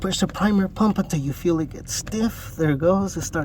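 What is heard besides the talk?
No everyday noises stand out.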